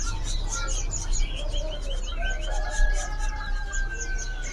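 Caged birds chirp and tweet in a bird shop, several small calls and short whistles overlapping against a busy background hum, with faint voices nearby.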